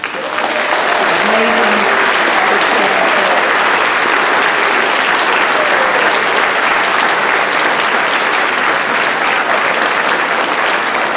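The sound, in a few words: concert audience applause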